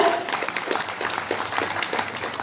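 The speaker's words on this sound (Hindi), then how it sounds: "तालियां होती रहे लगातार।" A crowd applauds at a ceremony where the Jharkhand Chief Minister hands appointment letters to dentists and medical officers, a dense, steady patter of many hands clapping at once, with no break throughout.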